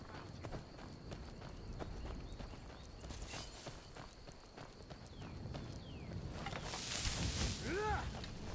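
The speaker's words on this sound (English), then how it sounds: "see if Shadowmare has respawned there. No, not at the Black Pond. Shadowmare's like, who's this new horse?" A horse's hooves clip-clop steadily over ground in the Skyrim video game, a continuous walking rhythm set against a busy ambient background, with a brief rising call near the end.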